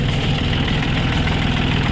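Kubota L3608DT tractor diesel engine running at a steady idle, a loud continuous low rumble with even rhythmic knocking close by, no voices.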